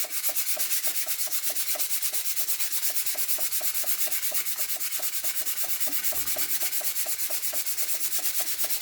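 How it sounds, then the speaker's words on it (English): Steady, rhythmic hand sanding strokes rasp back and forth across wood for a final smoothing before pyrography, close and continuous with no talking. "this is like your final sanding of your wood to get it really smooth at this stage"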